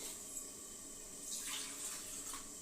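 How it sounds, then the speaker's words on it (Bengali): Water pours into a cooking pot during home cooking, a faint, steady splashing rush that swells midway through. "জলটা দেওয়া থাক"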